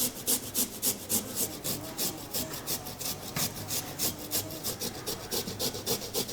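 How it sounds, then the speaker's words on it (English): Fresh turmeric root rubbed over a grater for a spicy homemade beer, giving a steady run of quick rasping scrapes in a regular back-and-forth rhythm, close and moderately loud with no talking. "So Mari, Alexander, Mari, why don't you grate some turmeric for us?"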